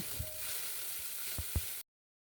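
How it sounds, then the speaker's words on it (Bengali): Ginger, garlic and cumin paste sizzles loudly in a hot frying pan, a steady hiss broken by a few soft thuds and clinks before cutting off abruptly. "এখন আদা বাটা রসুন বাটা জিরা বাটা সব একসাথে প্যানের মধ্যে দিয়ে দিলাম"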